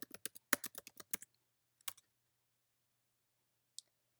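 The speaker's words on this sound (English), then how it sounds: "you type in Google Forms" Quick, crisp keystrokes on a computer keyboard come in a brief burst, then a few more taps and a lone click after a pause, close and clean with near silence around them.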